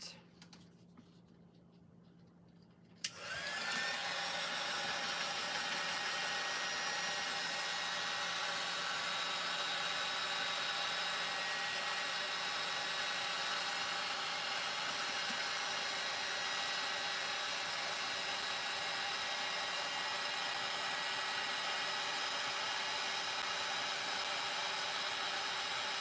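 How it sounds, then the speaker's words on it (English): After a few seconds of near silence, a heat gun switches on and blows with a steady, loud, unchanging whoosh and whine for the rest of the time while it dries a Mod Podge craft piece. "I'm going to hit it with the heat gun real fast."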